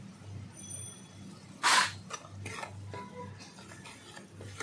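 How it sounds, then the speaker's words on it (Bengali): Garlic, chilli and ginger pastes and tomato paste are stirred in a pan for a yogurt chicken curry, with a sharp spoon scrape against the metal and softer intermittent stirring over a low background. "ভালো করে কষিয়ে নেব।"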